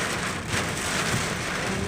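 Heavy rain pours steadily during a strong storm, a dense, loud, continuous hiss of drops striking surfaces with no pauses.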